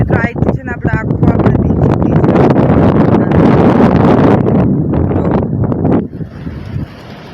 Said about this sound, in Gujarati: ફરતી વાર પવન પણ છે